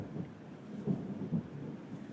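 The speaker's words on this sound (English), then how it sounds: "It was the thunder." Thunder rumbles low and distant, a faint continuous roll that swells briefly a couple of times before settling back to a quiet murmur.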